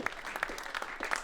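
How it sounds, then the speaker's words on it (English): A studio audience at a rugby season preview show claps in a brief, fairly faint burst of applause. "Can we have a round of applause for the wise words of James Haskell"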